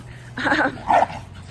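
Two quick, sharp dog barks close by, followed by a lower yip, over faint background noise.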